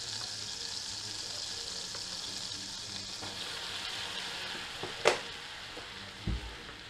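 Plain flour cooking in melted butter for a roux gives a steady, soft frying hiss throughout, with a couple of brief utensil taps near the end; fairly quiet and close.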